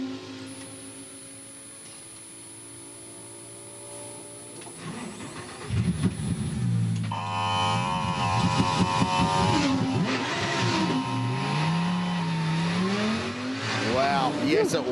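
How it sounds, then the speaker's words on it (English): Race car at the Bathurst 12 Hour endurance race being reset and restarted: a steady mechanical whine from its pneumatic paddle-shift air compressor, then the engine fires and revs in loud, rising and falling bursts, with commentators talking over it. "You could hear the pneumatic air compressor that fires the paddle shift gearbox in those cars working away in the background."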